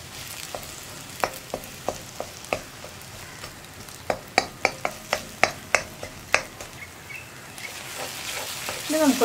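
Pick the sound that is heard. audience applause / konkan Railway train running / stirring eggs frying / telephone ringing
stirring eggs frying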